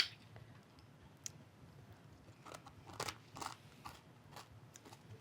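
Several sharp, brittle cracks and crunches sound close up in a quiet room, irregular bursts as the caramelized sugar crust of a crème brûlée breaks.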